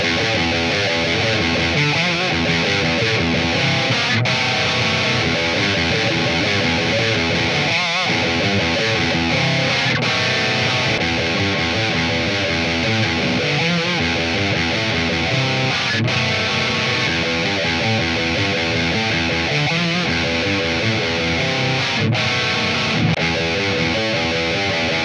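A heavily distorted electric guitar with Fishman Alnico Modern and EMG pickups plays rock riffs, loud and continuous with thick, saturated chugging chords throughout.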